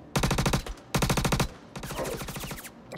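Rapid automatic gunfire in the Star Citizen video game, firing in two tight bursts and then a longer, slightly softer rattling volley, loud and close.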